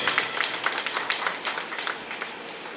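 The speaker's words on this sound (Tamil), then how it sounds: "அனைவரும் தனது கைத்தட்டலை தெரிவிக்குமாறு அன்போடு தெரிவித்துக் கொள்கிறேன்" Applause from an audience at a DMK party general members' meeting in Tamil Nadu, welcoming a district official: a short burst of moderate, steady clapping from a crowd, fairly distant and without talk.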